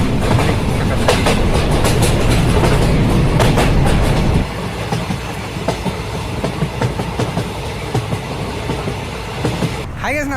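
Shatabdi Express 12007 running between Chennai Central and Mysuru, heard from inside an AC chair car: loud, steady rumble and clatter that drops to a quieter, even roll partway through, with a brief screech near the end.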